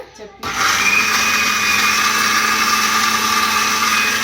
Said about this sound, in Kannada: ಇದೇನು ಮಿಕ್ಸಿ ಮಾಡಾಕತಿ ಈಗ